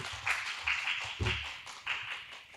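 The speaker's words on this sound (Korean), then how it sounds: "알찬 강의 해주신 우리 조옥순 센터장님께 다시 한번 큰 박수 부탁드립니다." Scattered, quiet claps from a small audience after a lecture at a retirement-planning concert come in uneven bursts, sounding sparse and somewhat distant rather than a full ovation.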